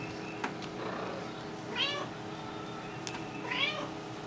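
A cat meows twice, short rising calls spaced about two seconds apart, close and moderately loud over a quiet room hum.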